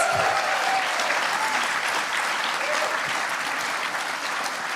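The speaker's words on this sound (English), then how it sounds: "Can you give him an applause?" An audience breaks into sustained applause for an honoured guest, a thick, even wash of clapping from many hands that holds steady without pause.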